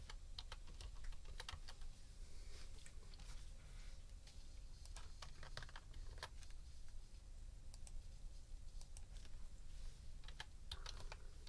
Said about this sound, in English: I'm typing it as we speak